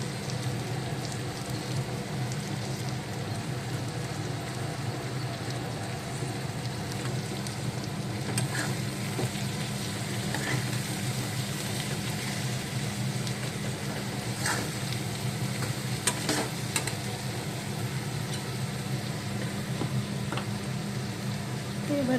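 Turmeric and cumin powder frying in a hot pan give off a steady, dense sizzle with faint crackles and pops, continuing evenly throughout without voices.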